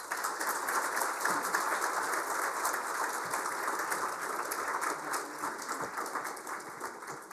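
Sustained audience applause at the National Press Club in Canberra welcoming Dr. Lobsang Sangay, a dense even patter of many hands clapping, moderately loud and steady without voices.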